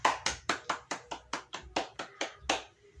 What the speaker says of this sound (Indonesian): Beri tepuk tangan kepada kelompok 2 yang telah menjawabnya